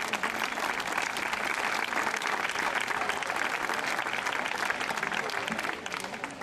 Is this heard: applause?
yes